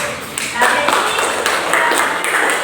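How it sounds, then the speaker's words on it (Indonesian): A classroom of students claps together during a peer-teaching lesson, a dense, steady patter of many hands with rhythmic accents, loud and close, with voices mixed in underneath. "Tepuk tangan dulu."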